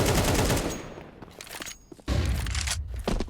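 AK rifle fire in Counter-Strike during an ESL Pro League match, with loud rapid bursts of gunfire, a quieter lull, then more dense shooting and footsteps.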